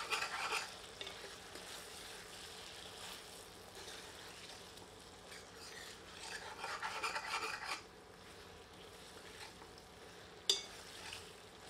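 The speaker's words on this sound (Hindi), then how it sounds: "एक बार अच्छी तरह फिर से करछी चलाते हैं।" A ladle stirs walnut mutton curry in a pot over low heat, giving soft continuous scraping and rasping with a faint sizzle, quiet and close, with a sharper knock near the end.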